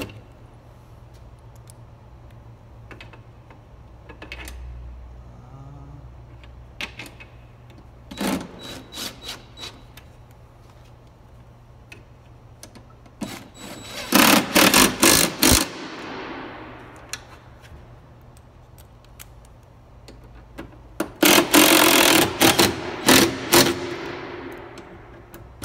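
A power driver with a Torx bit drives bracket bolts for bus crossover mirrors, producing two loud, rapid rattling bursts of one to two seconds each, separated by quieter clicks and handling knocks.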